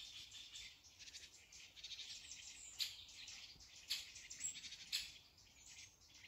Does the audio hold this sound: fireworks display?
no